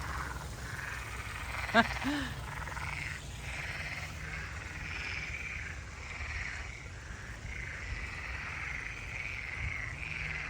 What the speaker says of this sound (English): I wonder if they're real frogs or if they're recordings